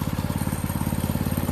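A mini bike engine with its stock exhaust runs steadily nearby, a loud, rapid even putter with a low throbbing pulse throughout and no voices.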